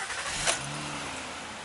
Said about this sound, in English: So now let's start it up.